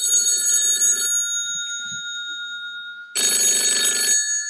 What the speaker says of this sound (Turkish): İkinci telefonumuzu alıyoruz.